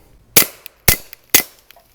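Three sharp gunshots fired through a suppressor at close range, evenly spaced about half a second apart, each a crisp crack with a short decay.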